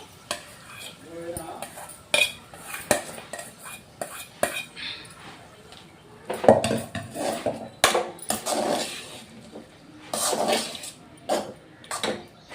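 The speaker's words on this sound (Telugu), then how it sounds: "ఇంకా స్టవ్ ఆఫ్ చేశాను రైస్ వేసుకుంటున్నాను" Metal spoon clinking and scraping in a pot as rice is stirred into wood apple pulihora with the stove off, irregular knocks and scrapes recurring close by over soft kitchen background, with a voice speaking at times.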